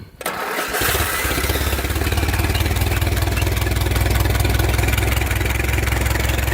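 A 1915-1925 Essex car engine with its valve cover off cranks and fires after a brief quiet moment, then runs at a steady, loud, close-up idle with a busy mechanical clatter throughout.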